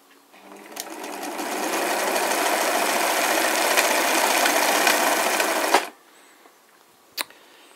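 An Elna industrial sewing machine runs at a steady, even speed for about five seconds and then stops, leaving a quiet room with one sharp knock a moment later.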